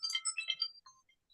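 A phone ringtone plays briefly in a short electronic melodic burst, faint and distant, then falls silent, with no talk over it.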